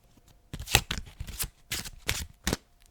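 Playing cards are shuffled in several quick riffling bursts, close and crisp, separated by short pauses.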